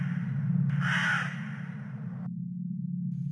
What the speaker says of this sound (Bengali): কাকটা আবার ডেকে উঠল।